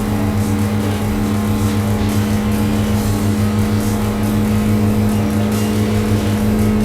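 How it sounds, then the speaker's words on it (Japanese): A Honda N360 at nearly full throttle through the 130R corner on a circuit, its small engine droning steadily and loudly from inside the car, a constant buzzing tone with no talking. "アクセルはほぼ全開です。"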